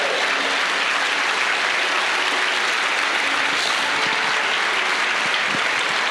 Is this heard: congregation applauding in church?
yes